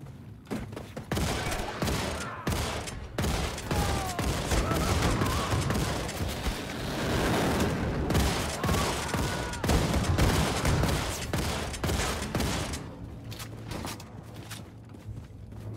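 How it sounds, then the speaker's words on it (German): Dense enemy gunfire in Wolfenstein II: The New Colossus, rapid overlapping shots and bursts crackling almost continuously for several seconds, loud and close, easing toward the end. "Ich glaube, die schießen."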